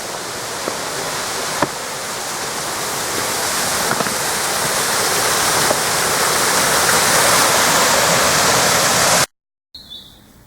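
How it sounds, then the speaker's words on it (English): A mountain stream rushes steadily on a forest trail, a loud broadband wash that slowly swells over ten seconds, then cuts off abruptly near the end with only faint sounds after. "For the past 2 hours I've been walking in earshot of running water"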